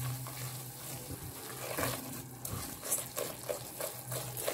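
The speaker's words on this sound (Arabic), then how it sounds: "هنقلب لغايه بس ما الدقيق كده ايه ياخد لون وتشم ريحته" Steady sizzling of butter and flour in a pan with soft scraping and stirring strokes, close by, no voices.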